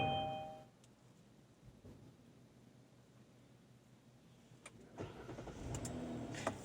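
A Kia car's engine starts after pressing the push start button: a quiet stretch, then the engine catches and settles into a moderate, near idle at the end.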